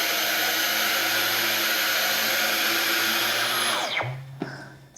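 A Dyson V15 cordless vacuum runs on medium mode with a loud, steady high-pitched whine that spins down abruptly near the end, followed by a brief low hum and a click.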